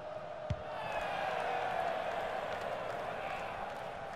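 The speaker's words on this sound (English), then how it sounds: "the crowd indulging in a Mexican wave" A stadium crowd in the football video game FIFA 19 roars steadily during a Mexican wave, forming a broad, sustained wash of distant voices with one brief thump near the start.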